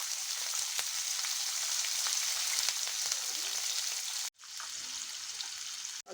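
Green chilies and onion fry in hot oil with cumin and mustard seeds in a pan for Mysore dal, a loud, steady close sizzle that briefly drops out and then resumes, with no talking.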